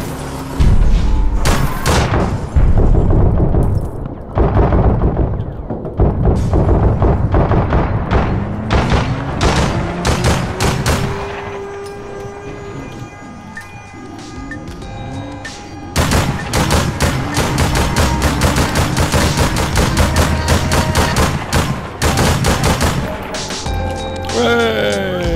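Dense gunfire from the online shooter game APB Reloaded, with rapid automatic bursts, single shots and heavy booms in near-constant loud volleys and a brief lull midway, while players talk over it.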